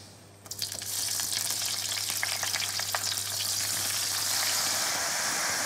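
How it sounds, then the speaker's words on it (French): Small green and red chili peppers drop into hot olive oil in a pan and start roasting, a sudden burst of sizzle that settles into a steady, close crackling hiss with brief popping, with no talking. "je vais faire rôtir mes petits piments dans de l'huile d'olive"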